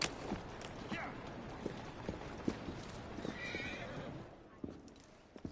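A video game horse whinnies and snorts over steady clip-clopping hooves, with scattered sharp knocks and a brief high neigh partway through.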